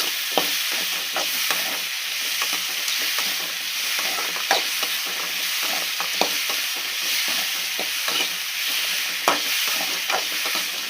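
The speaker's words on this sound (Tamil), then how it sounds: "இப்போ நம்ம இந்த கீரைக்கண்டை போட்டுக்கலாம். கீரைக்கண்டை வதக்கணும்." Spinach stems sauté in a pan with onion, tomato and garlic for a tamarind curry: a constant close sizzle broken by repeated scraping stirs at an uneven rhythm, with no voices.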